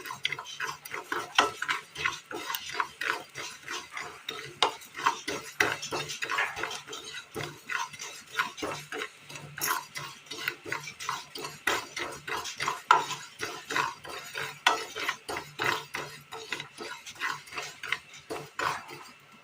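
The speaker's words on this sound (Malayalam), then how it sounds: "പാൻ അടുപ്പത്ത് വെച്ച് എള്ളിട്ട് കൊടുക്കാം ജസ്റ്റ് ഒന്ന് ചൂടാക്കി എടുക്കാം" Sesame seeds dry-roasting in a pan on the stove for a Kerala curry, giving a steady run of quick light ticks and rattles as they are stirred, close and fairly quiet, with no talk.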